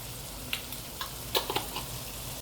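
Five-spice panch phoron frying in hot oil while cooking a vegetable niramish, a steady close hiss broken by a few sharp crackles and pops, with no talking.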